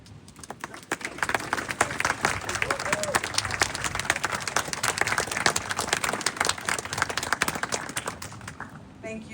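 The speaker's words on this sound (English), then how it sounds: "everyone can acknowledge you with a round of applause" A crowd at a restoration ceremony claps steadily for several seconds, dense applause filling the room at moderate volume before tapering off at the end.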